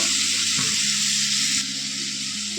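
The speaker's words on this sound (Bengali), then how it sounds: "এর সাথে একটুখানি ভেজে নেবো, হালকা করে ভাজলেই হয়ে যাবে।" Loud, steady sizzling of chicken frying in a hot pan, close up, with a brief stirring scrape partway through and no voices.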